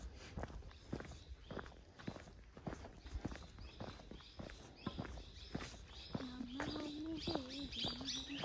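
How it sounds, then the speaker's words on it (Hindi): Birds chirp and tweet steadily in a dense forest, with one sustained whistled call near the end, all partly masked by continuous nearby footsteps walking along the path. "पक्षियों का कलरव सुनाई देता है।"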